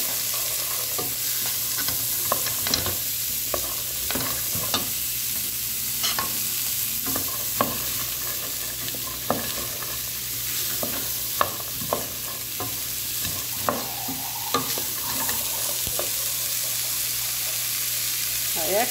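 Hearts of palm stirred into chicken frying in a pan with colorau, giving a steady sizzle under repeated scraping and clacking of a utensil, with many short knocks throughout and no talking.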